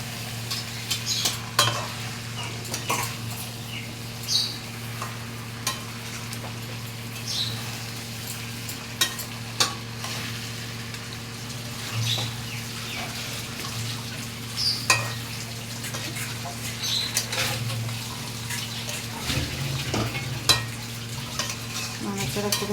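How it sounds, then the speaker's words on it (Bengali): Ghee-fried rice being stirred in a frying pan with a light sizzle, spatula scrapes and clicks recurring every second or so over a steady low hum, close and moderately loud, without talk. "দিয়ে ভালো করে নাড়াচাড়া করে নেব।"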